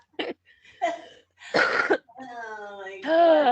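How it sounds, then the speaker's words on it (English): A fit of rough coughs and throat clearing in short bursts, close to the microphone, trailing into strained, voiced laughter-like sounds. "You're gonna have a coughing fit now."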